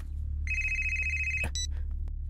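An electronic telephone ring sounds nearby, a steady warbling tone lasting about a second, then a brief second burst, over a low background hum.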